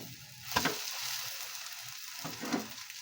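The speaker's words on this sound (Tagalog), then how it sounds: "Luto din po ako ng scrambled egg." Scrambled egg frying in a pan, a soft continuous sizzle with two brief louder bursts as the egg is stirred, quiet and close, with no talking.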